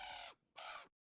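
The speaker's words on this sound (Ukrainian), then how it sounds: "Чого це ворона кричить на нас?" Two harsh crow caws from a Witch in the Woods video game, each about a third of a second with a short gap between them, loud and close, with no talk over them.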